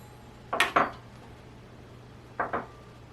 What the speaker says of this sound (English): So now let's get some flatware on the table.